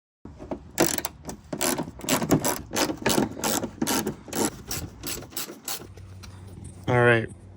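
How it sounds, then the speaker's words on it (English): A ratchet removes 10mm bolts from the mudflaps of a third-generation Toyota Tacoma, giving a rapid series of close, rasping clicks in bursts, followed by a short, higher mechanical whir at the end. "you're just gonna need to remove a few 10mm bolts"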